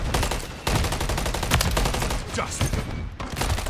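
Sustained automatic gunfire in a Call of Duty MW3 multiplayer match, loud and close, with rapid shots running almost continuously and a brief gap near the start, while a voice shouts over it.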